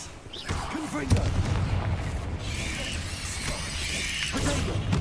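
A fiery Confringo spell blast in the video game Hogwarts Legacy booms and rumbles over dense battle noise and music, with a player's voice talking over the continuous roar.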